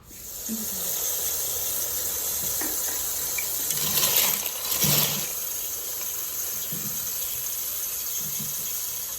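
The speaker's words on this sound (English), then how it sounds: "now I place my pasta inside and we're going to add water" Tap water pours steadily into a cooking pot holding dry pasta, a continuous close hiss with a brief louder gush partway through.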